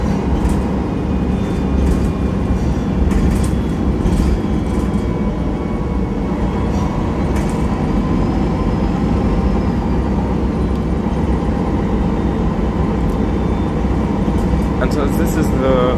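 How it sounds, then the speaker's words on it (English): The interior of a MAN NG313 articulated city bus in Ljubljana hums with a steady, loud engine and road drone. Occasional rattles and clicks sound throughout, and someone talks over the noise. "Yeah, I can say it's a very good bus."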